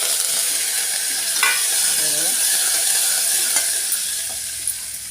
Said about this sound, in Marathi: लसूणला चांगलं हलवून देते